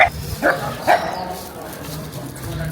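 A dog lets out a few quick barks at mid distance outdoors in a Spanish coastal town, two or three spaced yaps under street ambience, fading into a steady background hum.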